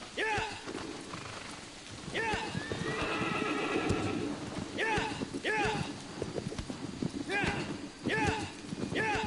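A horse in a PS4 video game neighs several times in loud, repeated whinnies over a steady bed of clip-clopping hooves and running, close and continuous, with some game ambience underneath.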